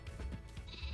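Sheep bleat in the Minecraft mod pack Life in the Woods, a short, close in-game bleat with a buzzy, wavering tone and no talking over it.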